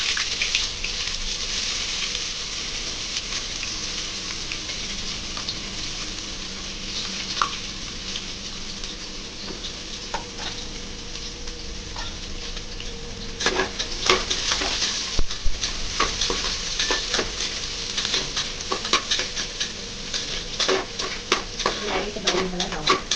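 Onions fry in hot oil and ghee in a pan, a steady sizzle that runs throughout. Scraping stirs and clinks get busier in the latter half, and a voice talks over the cooking.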